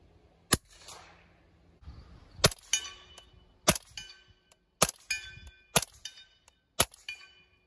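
Suppressed rifle shots from a 300 Blackout and a 5.56 rifle ring out as about seven sharp, metallic cracks spaced irregularly at close range, with quieter rustling between them.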